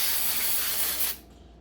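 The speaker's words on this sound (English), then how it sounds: "spray the foil" Remington Shaver Saver cleaner sprayed onto the foil of an electric shaver in one steady, close hiss lasting about a second before cutting off to near quiet.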